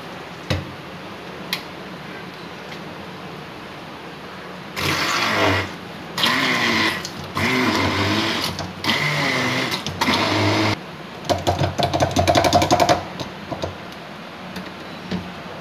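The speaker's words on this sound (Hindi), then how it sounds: "उसको मैं ग्राइंड करती हूँ" An electric mixer grinder whirs through chopped tomatoes in a home kitchen during chicken biryani preparation, running in several loud bursts of a few seconds each with short pauses between, then one rougher final burst, and no talking.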